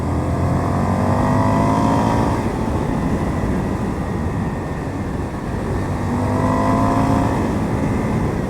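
An Indian FTR 1200 motorcycle engine is loud and close, droning steadily through rising, revving pulls with a short dip in the middle before climbing again.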